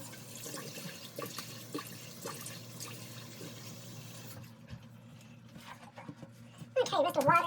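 A bathroom tap runs while a face is rinsed after a wet shave, with a steady, low rush of water that splashes louder near the end.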